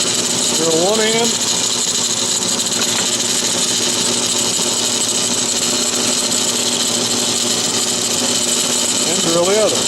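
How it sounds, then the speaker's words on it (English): A power drill boring into a wooden clothes drying rack piece, a steady loud high-pitched whine held for about ten seconds, with a brief rising spin-up near the start and again near the end. "Drill one end."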